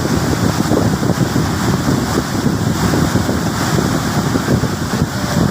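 Water at the Mae Mok reservoir in Lampang, a steady loud rushing wash that continues without a break, mixed with wind buffeting the microphone and no speech.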